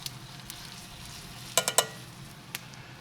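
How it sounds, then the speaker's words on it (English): A pot of white chicken chili with cannellini beans simmers with a soft sizzle on a Kamado Big Joe grill, broken by a quick burst of several close scraping clicks from a spoon stirring, then one more scrape. "Going to give that a good stir"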